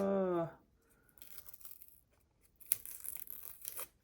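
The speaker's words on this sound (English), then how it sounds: "I don't think this one's gonna budge without ripping. I can see it ripping already." A sticker on a planner page rips and tears as it is peeled off, a raspy scraping tear in two bursts after a short spoken word, close and moderately loud.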